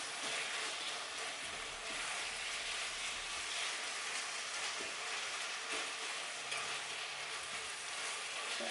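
Impossible Foods plant-based meat browns in a hot pan for a vegan chili, giving a continuous soft sizzle with faint scraping as it is stirred and pushed around, steady and fairly quiet.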